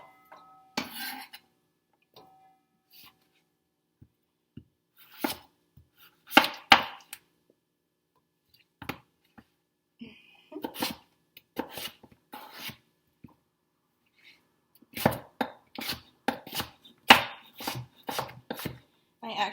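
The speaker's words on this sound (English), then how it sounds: "I'm just going to chop these up" Irregular knife chops against a cutting board, sometimes single, sometimes in rapid bursts, close by with quiet pauses between.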